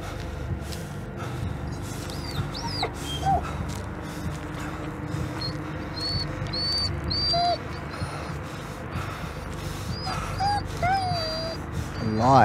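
A dog in the Blair Witch horror video game whimpers and yips repeatedly in short, high-pitched whines scattered over a dark, rumbling ambient backdrop, with occasional soft thuds and other game sounds.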